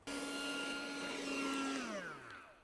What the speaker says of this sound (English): as long as I've got a window vac